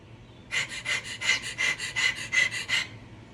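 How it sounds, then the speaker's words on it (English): Rapid, shallow panting breaths demonstrating anxious breathing, about a dozen quick rhythmic huffs in close succession over a few seconds, close and clear with no talk. "They wanted to get you anxious and keep your breath like this."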